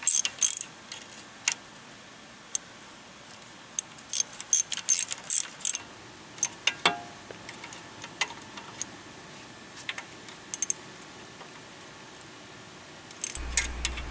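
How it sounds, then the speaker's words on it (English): Sharp metallic clicks and ticks come in irregular bursts as a ratchet works the bolts on a Suzuki Samurai front axle, scattered and close, with quiet gaps between. "right now just finished tightening up all the bolts"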